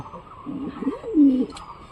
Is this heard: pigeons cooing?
yes